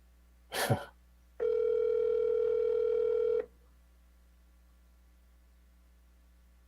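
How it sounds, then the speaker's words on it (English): A brief click, then a single steady electronic telephone ring tone lasting about two seconds, followed by quiet line hum. "No, that's a ring."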